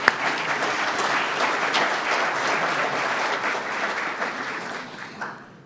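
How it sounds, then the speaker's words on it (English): Sustained applause from a meeting audience honoring program participants, a dense even wash of many hands clapping that thins out and fades at the end, with no voices over it. "help me give them some appreciative applause"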